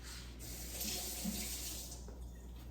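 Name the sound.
running tap water washing a spoon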